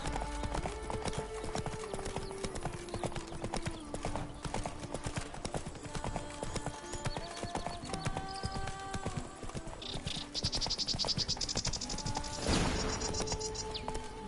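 A horse's hooves clip-clop in a steady rhythmic trot while riding in The Witcher 3: Wild Hunt, close and continuous, with creaking tack and a brief whinny or splash of noise near the end, no speech.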